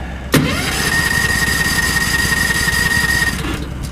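A Ford car with its choke backed off cranks, catches and runs with a steady engine drone, dropping off near the end as it dies, close and loud.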